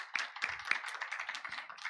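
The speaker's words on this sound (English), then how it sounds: "Please welcome him with a round of applause." Faint applause from a forum audience welcoming a speaker, a brief patter of scattered claps lasting under two seconds.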